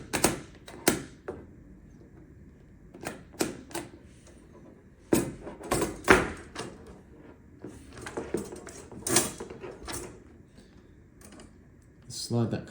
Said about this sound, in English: slide that cover up out of the way as best as possible